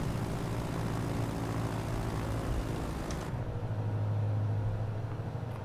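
Steady single-engine propeller drone of a simulated Robin DR260 160 Capitaine light aircraft in Microsoft Flight Simulator, continuous and fairly loud, with the tone shifting slightly partway through as the cockpit sound changes.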